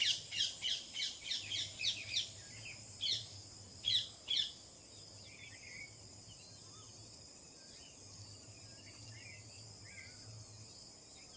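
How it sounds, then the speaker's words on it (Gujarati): Birds call from a mango tree, several loud rhythmic squawks in quick succession over the first few seconds, then fading to faint calls over a steady background of crickets and insects. "હજી પણ પક્ષી બોલે જ છે"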